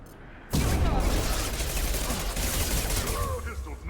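Sustained gunfire in the Mass Effect 2 game bursts in loud after a half-second of quiet and keeps up as a dense, continuous rattle of shots with boom-like low thuds.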